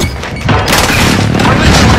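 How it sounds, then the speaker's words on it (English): A precision airstrike explodes in the Call of Duty Warzone battle royale, a loud sustained blast and rumbling crash that builds after a brief lead-in and rolls on without letting up. "Be advised, friendly precision airstrike inbound."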